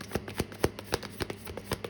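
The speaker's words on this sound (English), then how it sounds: "So I'm going to shuffle the cards again." Tarot cards are shuffled by hand in a quick, soft run of riffling snaps and taps, close and quiet, with no talking.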